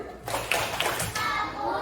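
Children in a classroom give a short rhythmic appreciation clap, several bursts of hand claps close by with kids' voices mixed in.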